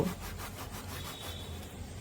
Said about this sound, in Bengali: জোয়ানটাকে 2 হাতের তালুতে একটু ঘষে দিয়ে দেব।